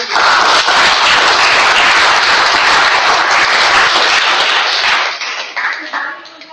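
A club meeting audience claps in loud, dense applause that holds steady for about five seconds, then thins into scattered claps and fades out.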